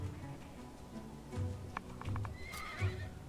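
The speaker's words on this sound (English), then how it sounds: "why did I hear a horse die?" Horse sounds in the video game Dawn of Man, quiet and distant, with hooves clip-clopping and a short whinny amid faint background game ambience.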